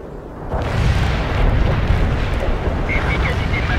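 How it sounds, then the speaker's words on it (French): Artillery barrage in the war game World in Conflict: dense, loud rumbling explosions after a quieter start, continuous booming with a voice talking over it. "Efficacité maximale du barrage d'artillerie."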